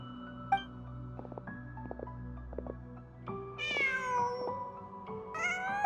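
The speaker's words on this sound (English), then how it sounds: "Huh. Just a cat." A cat in the video game Genshin Impact meows several times, with clear, tonal, rising calls over quiet ambient game music and soft effects, the later meows louder and higher.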